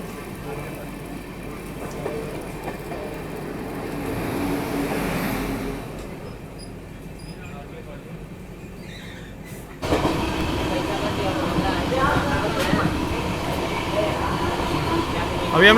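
Interior of the moving Gaya-Delhi Mahabodhi Express, second AC coach: a steady rumbling roll of wheels on rails that grows louder and rougher partway through as the train speeds up, with speech over it.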